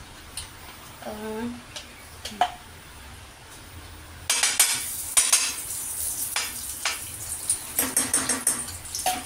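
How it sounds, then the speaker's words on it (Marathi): Ghee is pushed around a hot pan, with scattered light metallic taps, then a brighter run of scraping and clinking strokes in a quick rhythm; a voice briefly speaks near the start. "आता आपण याला हलवूया, सगळीकडे असं तूप करून घेऊया छान असं."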